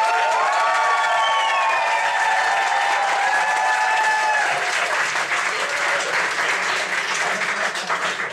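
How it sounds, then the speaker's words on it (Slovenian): A standup roast crowd breaks into loud applause and cheering, with whistles early on and a thick wall of clapping that swells in the second half and stays loud to the end. "Kdo je za Sašota naj ploska zdaj?"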